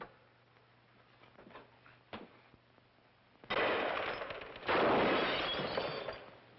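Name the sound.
gunshots fired at a ghost in a 1948 film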